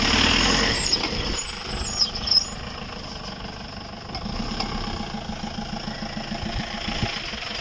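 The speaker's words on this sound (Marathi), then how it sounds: "आमचा ट्रॅक्टर आला" A 4x4 tractor arriving on a muddy monsoon road where cars get stuck, its diesel engine holding a steady, moderately loud idling rumble throughout with no voices.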